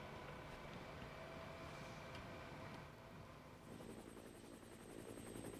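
A helicopter filming a bike race in central Spain, a continuous rotor drone hanging over the scene at moderate distance, steady and fairly faint without voices.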